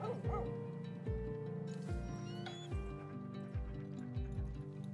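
Sled dogs in an Alaskan survival video game bark and yip repeatedly over a steady backing of game music, the barks coming in quick bursts with a few whimpers, close and fairly loud throughout.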